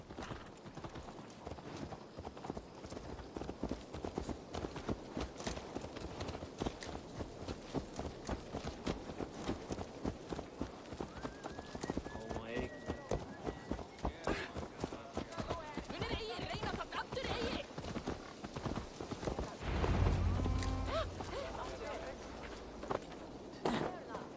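Horse hooves clip-clop in a fast, steady rhythm from the game Assassin's Creed Valhalla, close and continuous, with a voice briefly speaking partway through and a soft thud near the end.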